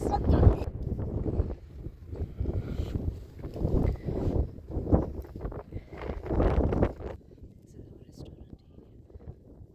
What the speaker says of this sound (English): It's windy, guys.